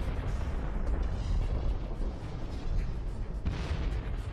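Supernova explosion rendered as a sound effect: a dense, continuous deep rumbling roar with crackling bursts, steady and heavy throughout, with no voices.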